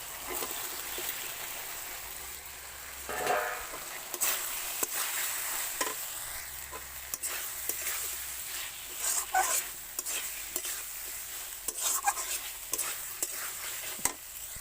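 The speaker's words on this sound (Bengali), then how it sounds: "এবার ভেজে রাখা আলু আর পটলটা দিয়ে দিচ্ছি আমি" Fried potatoes and pointed gourd stirred into cooked-down masala in a pan, with repeated scraping stir strokes over a steady soft sizzle, close and moderately loud, no talking.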